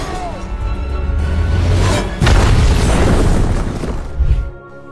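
A gun tower is blown apart in a single explosion in the film Wonder Woman, a loud, sustained boom with a rumbling roar that swells and then cuts off, heard over a film score.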